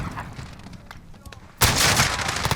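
Rapid full-auto gunfire from a Sykov pistol in the Modern Warfare video game erupts abruptly partway through, a dense loud burst that continues to the end after a quieter stretch of game ambience.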